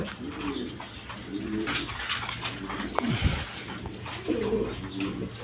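Red Rajgolla pigeons, a male and female pair, coo in repeated rolling bursts close by, with a short sharper call in the middle.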